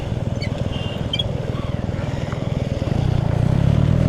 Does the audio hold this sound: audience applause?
no